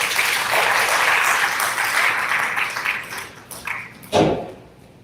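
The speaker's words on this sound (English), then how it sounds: "so please give him a huge round of applause." Audience applause for a professor speaking at a one-day national seminar on pharmacovigilance in healthcare, a dense, steady clapping that fades over the last seconds, with a single louder thump near the end.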